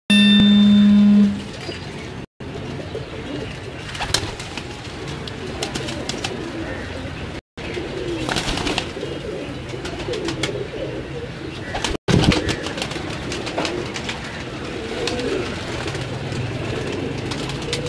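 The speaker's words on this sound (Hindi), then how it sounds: "ये वो कबूतर है" Pigeons on a home rooftop loft coo softly and intermittently amid continuous bird chatter, with a few brief clanks and short dropouts breaking the steady ambience; no one speaks.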